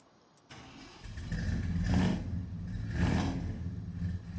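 An old Ford F250 pickup engine with shotgun exit exhaust cranks and catches, then settles into a rough, rumbling idle with two swells of revving, close by.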